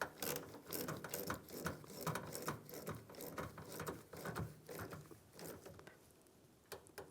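A ratchet clicks in quick, uneven bursts while tightening the negative battery terminal clamp on a 2007-2013 Chevrolet Silverado, fairly faint and close, with no talking.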